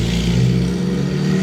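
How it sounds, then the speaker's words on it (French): Porsche GT3 RS exhaust in a convoy of Gulf supercars at Juan-les-Pins, a loud close engine note with deep harmonic drone that eases off after the first moment, no voices. "Pareil pour l'échappement de la GT3 RS."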